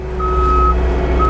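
A New Holland L318 skid steer loader sounds its reversing alarm, a loud steady beep that cuts out and returns near the end, over the machine's low engine rumble close by.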